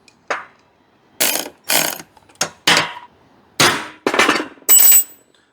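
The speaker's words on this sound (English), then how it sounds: "Now let's bolt her together so we'll have a little bit more accurate hole transfer." Car body parts being bolted together in a shop, a series of sharp metallic clanks and ratcheting bursts in irregular spurts, close and loud with silence between.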